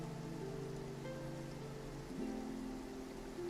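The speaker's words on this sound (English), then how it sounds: "It's raining." Faint, steady rain patters beneath a soft tonal hum in the video game Genshin Impact, continuous and even throughout with no voices.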